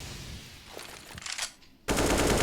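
Rapid gunfire spray in Counter-Strike on the map Ancient during a pro match, crackling bursts under a brief lull, then a sudden loud sustained blast that swells to full volume.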